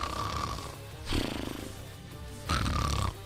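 A voice imitates snoring in two drawn-out, rasping snores, one near the start and another after a pause, loud and close over a low background hum.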